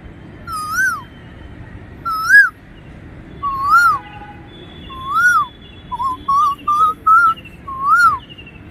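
A human voice imitates the koel's rising whistled call, repeating it about eight times in short, clear phrases, the last few quicker and clipped, over a low background hum.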